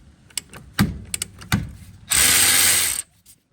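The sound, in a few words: ratchet loosening 12mm caliper bolt on Chevy Tahoe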